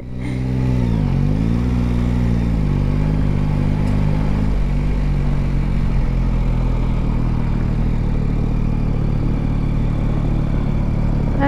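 A Yamaha Tracer 9 motorcycle engine roars loudly up close, revving and dipping in pitch at first, then settling into a steady, continuous ride.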